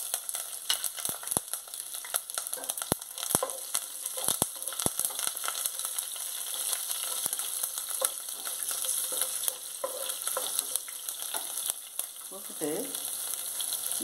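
Mustard seeds, green chili and curry leaves sizzling in hot oil for a tomato gravy, a close, continuous crackle with scattered sharp pops and spatters throughout.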